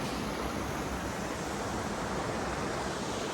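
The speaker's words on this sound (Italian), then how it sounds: "il torrente è molto carino, acqua" A clear mountain stream with very clean water runs steadily at the valley floor near Ponte Mariano, its broad hiss and rush continuous and close, with no one talking.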